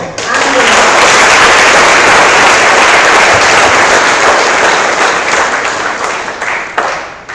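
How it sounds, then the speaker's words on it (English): A large audience at a white coat ceremony for first-year MBBS students claps loudly and steadily, a dense roar of hands that fades slightly toward the end. "So the third clap is for you."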